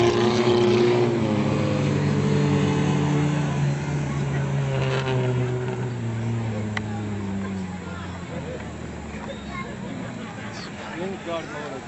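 Stunt car engines at a thrill show drone loudly and steadily as they warm their tires on the track, pitch slowly sinking, with an announcer talking over the roar.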